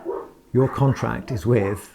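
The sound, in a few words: dogs barking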